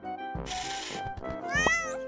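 A cartoon cat in a children's animated show gives a drawn-out, bright meow that rises and bends near the end, clear and close over light background music.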